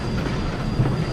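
A Cumbres & Toltec Railroad train rolls along the track with a steady, close rumble of wheels on rail and a faint squeal, heard alone without voices.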